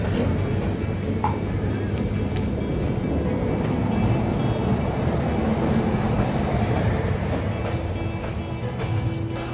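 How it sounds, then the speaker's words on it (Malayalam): A train pulls into a platform at Nizamuddin station in Delhi, a loud, steady rumble of wheels and carriages rolling along the track throughout, with no voices. "പ്ലാറ്റ്ഫോമിലേക്ക് ട്രെയിൻ എൻ്ററായി"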